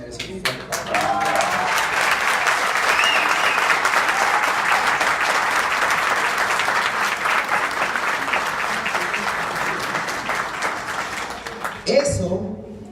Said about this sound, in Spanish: Yo creo que eso merece un fuerte aplauso.